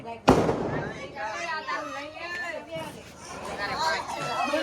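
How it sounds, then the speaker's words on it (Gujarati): Diwali-night firecrackers go off with one sharp, loud bang near the start, followed by crackling and bursts amid excited crowd chatter and laughter outdoors. "ફટાકડા મૂકી ભાગી ગયો"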